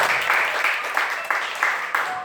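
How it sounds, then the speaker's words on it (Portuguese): Congregation clapping during an evening church service, a steady dense wash of applause with rhythmic pulses suggesting the crowd claps in time, fairly loud and continuous throughout. "Dê uma linda salva de palmas ao Senhor Jesus nessa noite"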